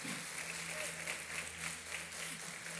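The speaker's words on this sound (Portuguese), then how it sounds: "Pode aplaudir Jesus, não baixa a guarda." A congregation at a women's church service applauds in a soft, steady wash of distant clapping that carries on continuously at low volume.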